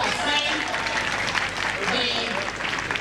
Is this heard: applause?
yes